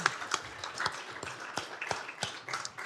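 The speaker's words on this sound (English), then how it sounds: "Let's all give Mayor Tate a round of applause" Scattered, light clapping from a small group at a county commissioners court meeting, fairly quiet and uneven rather than a full roar of applause.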